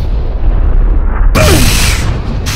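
Grenade explosion in PUBG, a sudden loud booming blast with a broad roar that cuts in sharply after a stretch of low rumble, then fades over about a second.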